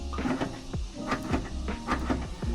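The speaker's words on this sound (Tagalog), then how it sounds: "Kung maririnig nyo, naglalak-unlock siya." A car door lock actuator cycles between locking and unlocking on a door harness being wired up, giving a series of sharp mechanical clunks and short whirs in quick repeated succession, close and fairly loud.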